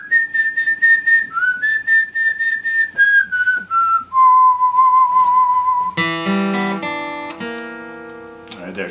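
A clear whistled melody of sustained, sliding notes from the intro of a song, followed by bright plucked string chords ringing out.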